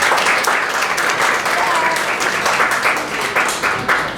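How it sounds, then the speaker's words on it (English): A crowd at a school honors breakfast gives sustained applause for the senior class, dense and loud, with a few sharper claps standing out near the end. "So huge round of applause for the senior class."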